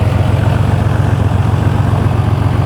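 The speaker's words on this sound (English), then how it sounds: "And this is the heart of the car. Stock turbo with an aftermarket exhaust." A Porsche 964 Turbo with a stock turbo and an aftermarket exhaust idles steadily, a loud, low, pulsing rumble that holds an even rhythm throughout with no talking.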